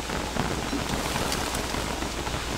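Steady rain falling in the survival video game Don't Starve, a dense continuous hiss of drops with no talk over it.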